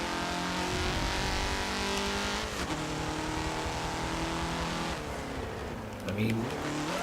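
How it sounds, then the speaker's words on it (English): An SUV slides and drifts in the racing game Forza Motorsport 7, its steady engine drone and tyre noise continuous throughout, with someone talking over it. "You can actually slide it a lot. Why does this drift so well?"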